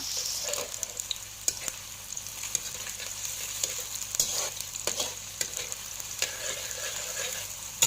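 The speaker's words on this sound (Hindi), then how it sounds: "अब हम ऑयल के अंदर प्याज डालकर इसे फ्राई कर लेंगे।" Onions fry in oil in a kadai, giving a continuous bright sizzle with scattered stirring scrapes and clicks, close and moderately loud with no voices.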